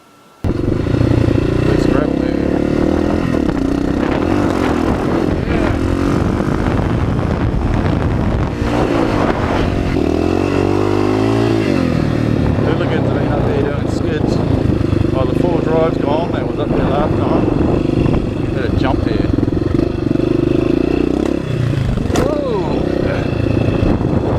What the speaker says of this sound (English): going for a ride up the bush on my xt600 today